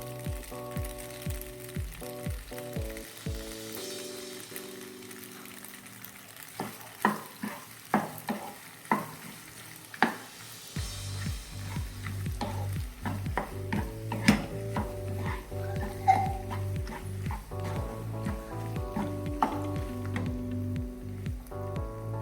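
A creamy pasta with fresh cream, pepper and chili flakes cooks in a pan, sizzling steadily while a utensil stirs and scrapes in regular strokes, with close clinks against the pan throughout.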